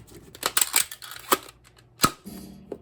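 A vintage Nerf blaster with a poor seal fires foam darts in a few sharp, snappy pops, with several clicks and mechanical rattles from handling between the shots, all close and fairly quiet.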